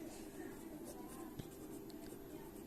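Faint, soft scratching of pen on paper during a maths lesson, low and continuous against quiet background noise.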